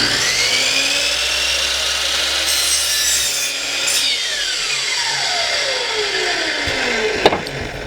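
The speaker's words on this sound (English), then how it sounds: "here we're setting the miter saw off to cut the first mitered angle edge" Miter saw blade slicing a mitered angle through a wooden frame piece, a steady loud whining cut with rasping wood noise that winds down near the end, followed by a brief knock.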